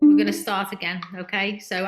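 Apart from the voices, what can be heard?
No everyday noises stand out.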